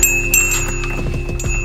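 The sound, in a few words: small bell brought back from Thailand ringing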